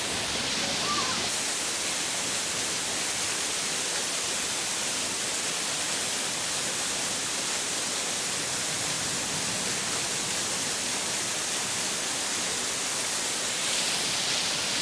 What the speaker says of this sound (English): See all the water coming down from above.